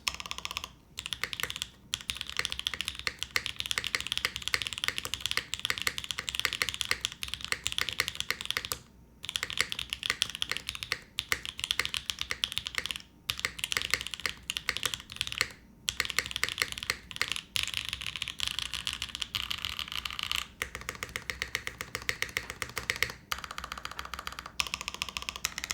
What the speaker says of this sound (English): I always feel like the keyboard sounds better the next day too